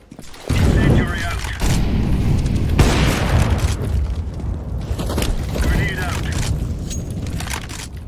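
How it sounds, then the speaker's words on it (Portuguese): Flashbang grenade going off in CS:GO amid gunfire and game noise, sharp bursts and a loud crack over continuous clatter, with a voice talking over the action. "Deploying flashbang."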